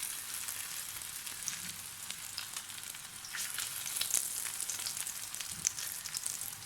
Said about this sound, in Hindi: ये तवा है, इसको मैंने इस पर मैंने थोड़ा सा तेल डाल के गर्म किया है, फिर मैं इसको तल रही हूँ।